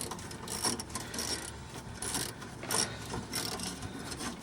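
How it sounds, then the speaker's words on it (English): Small socket set working loose a fuel filter clamp on a 1991 Ford Mustang GT, giving close, steady ratcheting clicks and scraping metal rubs in short bursts with no talking. "So here's a little socket set I'm going to use to undo the clamp."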